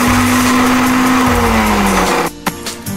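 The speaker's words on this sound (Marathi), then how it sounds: "मिक्सरमध्ये फिरवून घेऊया" A mixer grinder whirs loudly as it blends ginger, garlic and two green chillies for a Manchurian chutney, its steady motor pitch sagging gradually before it cuts out near the end, leaving a few faint clatters.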